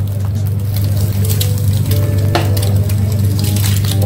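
An egg fries in a pan for bagels, a close, steady sizzle and crackle with scattered pops and spits over a low hiss, no voices.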